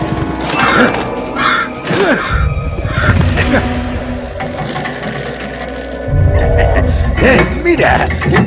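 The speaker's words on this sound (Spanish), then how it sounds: "Estos pájaros ya están bien alimentados" Crows cawing in the video game Middle-earth: Shadow of Mordor, harsh repeated calls mixed with game music and low rumbling, while voices talk over them.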